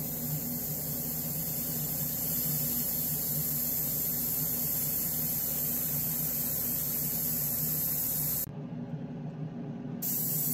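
A spray gun hisses steadily while painting a prototype Matchbox Intercity wreck truck model in a spray booth, a continuous airy spray broken by a short pause near the end.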